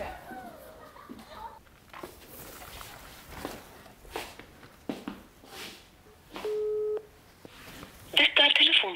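A telephone call goes unanswered: a steady electronic tone sounds briefly, followed by a burst of chirpy ringing, over faint room noise and shuffling.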